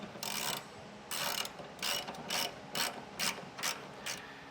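A hand ratchet snugs a 13 mm bolt on a nerf bar bracket of a 2013 Ram 2500, clicking in about eight quick bursts of pawl rattles with short pauses between.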